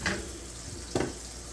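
Shrimp fry in a pan with a quiet, continuous sizzle, broken by two brief clicks or scrapes of a utensil near the start and in the middle.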